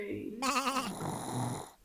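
A child performs a sheep bleat in a primary school Christmas nativity show, one wavering vocal imitation that trails into a quieter murmur of voices.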